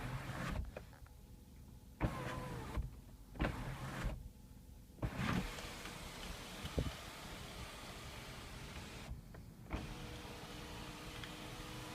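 The electric sunroof of a Mazda 3 runs, a quiet motor whir broken by several start-stop segments and soft mechanical clunks inside the car.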